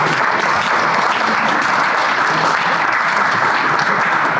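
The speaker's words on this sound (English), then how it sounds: "why don't we give these guys a round of applause?" Steady, dense applause from an audience for the panelists at an ESG panel event, an even wash of many hands clapping without pause.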